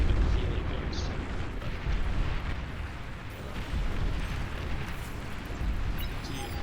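Explosions from a naval battle in a video game as a commander unit is destroyed, a continuous loud roaring rumble of blasts and bursts with no talking.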